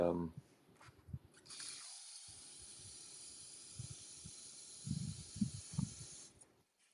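Water runs from a tap in a steady hiss for several seconds, fairly quiet and close, with faint low knocks and handling noises underneath.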